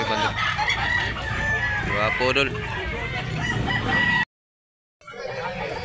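A green-legged bullstag rooster crows loudly and close by at a gamefowl sale in Talisay, Philippines, with people talking over it, followed by a short silence and more chatter.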